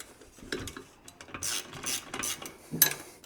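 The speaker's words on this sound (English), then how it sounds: "So I'm going to have my ratchet on here." A hand ratchet tightens the bolts on a universal upright roof rack, producing quiet, irregular bursts of metallic clicking with short pauses between strokes.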